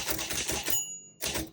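Typing on a 1935 Royal Model O manual typewriter: a rapid run of sharp, close key strikes, then a bright ringing bell that fades during a brief pause, followed by another burst of clacking.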